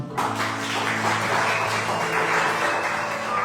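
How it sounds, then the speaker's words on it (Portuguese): Church congregation applauding during a sermon service: a steady, dense wash of clapping lasting several seconds at even volume, with a low sustained musical hum underneath and no talk. "palmas para o Roginho"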